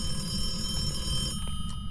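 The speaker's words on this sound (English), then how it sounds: "Now it's ringing the phone" A telephone ringing in the horror game Phasmophobia, a steady electronic ring tone held under low background rumble, fairly loud and alone, cutting off near the end.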